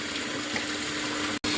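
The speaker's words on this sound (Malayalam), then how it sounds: "അപ്പം നമ്മൾ ഒഴിക്കുന്നുണ്ട്." Water pours steadily into a vessel while making black tea, a continuous close splashing stream that breaks off briefly near the end and resumes.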